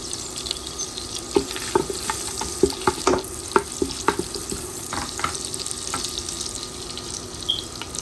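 Bay leaves and spices frying in hot oil in a pan for Goan mutton stew, with a steady close sizzle broken by scattered sharp crackles and pops, and no talking.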